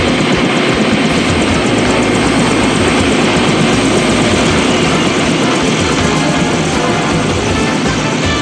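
A helicopter lifts off in a tense hostage standoff, its engine and rotor producing a loud, steady roar that fills the scene continuously with no letup.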